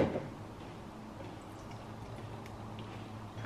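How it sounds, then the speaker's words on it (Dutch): Water poured into the reservoir of a Philips AquaTrio floor cleaner, giving faint close trickling and dripping over a low room hum, with a brief louder knock at the start. "en dan moet daar dus water in vullen tot max"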